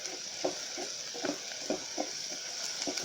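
Garlic sizzling in a pan of frying onions for a bean stew, a steady soft hiss with regular light stirring scrapes about every half second, close and fairly quiet.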